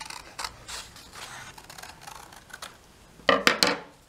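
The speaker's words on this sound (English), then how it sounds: "I'm gonna cut this out." Scissors snipping through paper for a positive and negative space art cutout, a few soft scattered snips early on, then a louder cluster of close, sharp cuts near the end.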